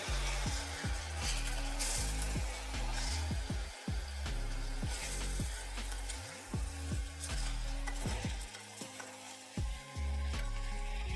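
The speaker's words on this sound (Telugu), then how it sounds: "ఇప్పుడు దీన్ని మనం బాగా కలుపుకొని కొంచెం సేపు వేగనివ్వాలి." Mutton with turmeric and ginger garlic paste frying for Rajasthani laal maas, a close, steady sizzle broken by repeated scraping strokes of a spoon stirring the pan in an uneven rhythm.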